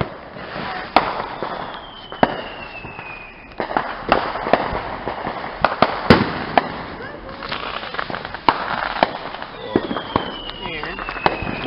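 Fireworks and firecrackers crackle and pop in rapid, sharp bursts with whistling streaks, loud and close outdoors, while people talk over them throughout.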